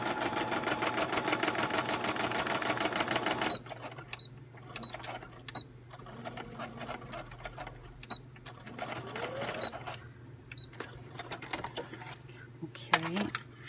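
A sewing machine runs fast and continuous while stitching envelopes, then slows into shorter bursts of rapid mechanical clatter separated by pauses, with a voice talking over parts of it.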